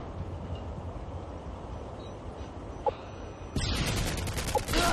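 Gunfire in a first-person shooter video game breaks out as a sudden dense burst of rapid shots in the last second or so, after a quieter stretch of low rumbling background.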